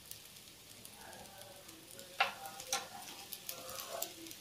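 Sabudana khichdi is stirred in a pan as pepper powder goes in, with a soft low sizzle under a few sharp scraping ticks of the spoon against the metal.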